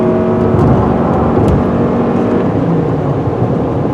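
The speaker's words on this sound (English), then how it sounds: "this vehicle still moves out with decent authority" A 2022 Toyota Highlander Hybrid hums and whirs steadily as it pulls away, a smooth, fairly loud drone with a faint rising tone.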